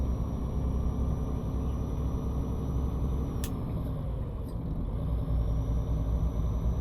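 A 1980s Volvo F10 truck hauling 23 tons in Euro Truck Simulator 2, its deep diesel drone steady and close, with a brief click and a slight dip in revs mid-way as a gear changes, and no talking.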